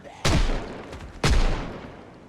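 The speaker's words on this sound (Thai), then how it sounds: "ช่วยกันยิงแล้วครับ" Two heavy, booming shots from players' guns in the zombie survival game Project Zomboid, spaced about a second apart, each with a sharp crack and a long rumbling tail.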